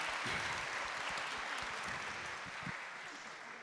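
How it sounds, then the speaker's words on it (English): Applause from a women-in-tech summit audience in Africa rises as a broad, even wash of clapping, fairly quiet and distant, tapering slightly toward the end. "Can we give that round of applause?"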